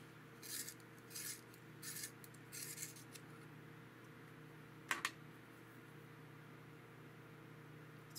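Four quick raspy scrapes of a dull Derwent Coloursoft white colored pencil being sharpened, faint and close, with a sharp click near the end over a quiet room hum.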